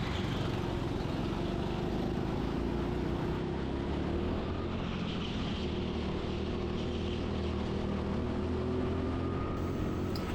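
A go-kart engine drones loud and steady through a lap at TeamSport Reading, its pitch shifting gradually as the kart accelerates and slows through the corners.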